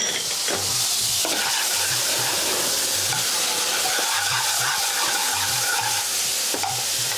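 Garlic and onion frying in hot oil on a railway-style tawa, a loud, steady close-up sizzle that runs throughout with repeated stirring scrapes underneath.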